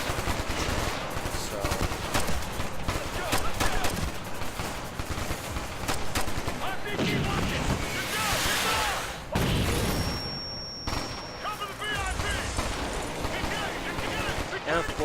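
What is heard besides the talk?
gunfire in a video game, Ghost Recon Future Soldier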